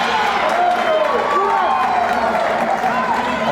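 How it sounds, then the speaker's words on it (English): A gym crowd at a women's college basketball game cheers and applauds in a loud sustained roar, under a commentator's voice. "And the crowd erupts."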